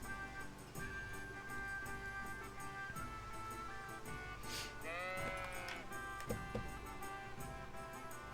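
A sheep bleats a few times, with one clear, wavering cry standing out midway over a steady tonal background hum.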